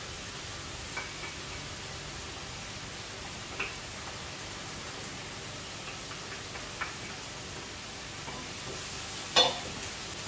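Onion and garlic sizzle gently in hot oil in a pan, a soft steady hiss with occasional faint ticks and a louder clink near the end.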